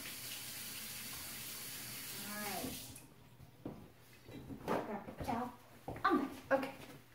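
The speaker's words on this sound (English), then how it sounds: "I'm gonna wash my hands real quick. We'll rinse my hands off of these." Running tap water pours steadily as hands are rinsed, then cuts off and gives way to scattered handling clatter and a voice speaking nearby.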